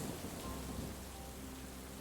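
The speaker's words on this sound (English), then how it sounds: "You hear the distant rumble of thunder, and in a matter of minutes, the storm is upon you" Steady heavy rain pours down in a dense, continuous hiss with a low rumbling undertone of thunder throughout.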